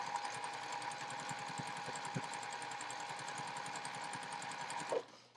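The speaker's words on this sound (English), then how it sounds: "while I have the sewing machine going" A sewing machine stitches a quarter-inch seam along a 9-patch quilt block, a close, rapid, steady mechanical whir with even needle clatter that runs nearly five seconds before stopping abruptly.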